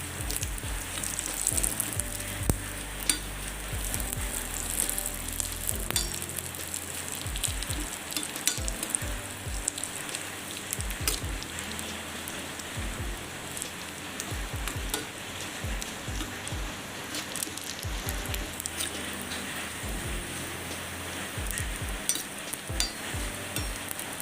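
Onions sizzle and fry steadily in a pan for a homemade curry, a dense continuous crackle with occasional stirring scrapes, close and fairly loud throughout with no talking.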